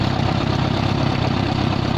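A tractor engine runs steadily at a fairly loud, even pitch, with a low throbbing rumble and no clear change in speed.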